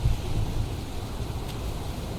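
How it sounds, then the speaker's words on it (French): Heavy downpour in the video game Heavy Rain, a steady broadband hiss of rain with a low rumble, continuous and even throughout, no talk. "Il pleut des cordes."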